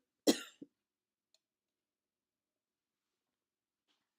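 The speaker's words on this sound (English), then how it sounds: "Sorry about that little cough." A single short, close cough followed by a faint throat sound, then near silence with a tiny click and a soft noise at the very end.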